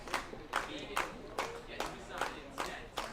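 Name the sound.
baseball crowd slow clap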